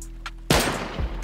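A turret opens fire during a raid in a survival game, a sudden loud, close burst of rapid gunfire that breaks a quiet moment and rattles on for most of a second.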